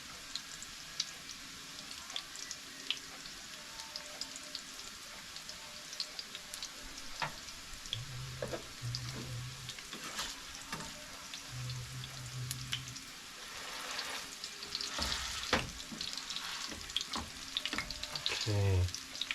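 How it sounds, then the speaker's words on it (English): Potato pancakes sizzle and crackle steadily in hot oil in a pan at an off-grid cabin, a continuous close frying hiss with occasional clinks and stirring sounds through the whole stretch. "They need to fry a bit more."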